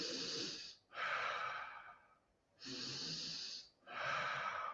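Slow, deliberate demonstration breaths, close and clear: two long, noisy inhales and exhales drawn deep through the airway, alternating with short pauses, no talking.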